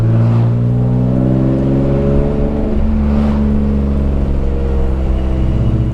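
A BMW E36 M3 race car engine revs and holds a loud, steady, harmonic drone, with pitch swelling briefly twice as the throttle is blipped, heard close and alone without talk.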